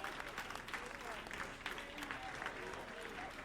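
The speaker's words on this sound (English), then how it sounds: "I really like this applauding in the background." Applause playing in the background of a video game, a soft continuous patter of clapping from a crowd, fairly faint and steady under a person talking.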